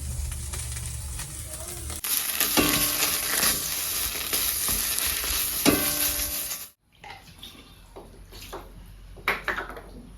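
Stirring a frying dish seasoned with salt and turmeric, a strong sizzle punctuated by several spatula scrapes that cuts off abruptly, followed by quieter clatter and rustle.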